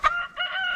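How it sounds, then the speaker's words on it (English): A rooster in a backyard chicken run lets out a short, close crowing call, two loud harmonic bursts in under a second with no one talking. "Rooster's teaching someone what's going on."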